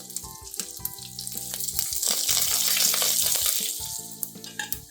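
Shallots, red chillies and curry leaves fry in hot oil for a Kerala-style kadachakka curry, giving a steady close crackling sizzle with intermittent tonal clinks and a sputtering peak midway, no voices.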